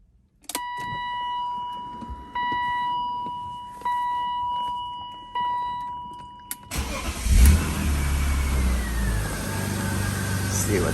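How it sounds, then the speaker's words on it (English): A car engine cranks and catches after a run of repeated electronic warning beeps, then settles into a loud, steady idle close by. "I'm going to start the car."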